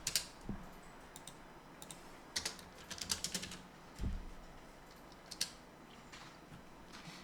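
Quiet computer keyboard keys tap in scattered bursts of clicks, with a firmer single press near the middle like an Enter key, close and alone.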